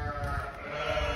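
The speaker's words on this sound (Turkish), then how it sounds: "Bunlar lakun. Lakun. Fransız süt koyunları." Lacaune French dairy sheep bleat on a farm, a continuous, close, loud, wavering cry that fills the short moment alone.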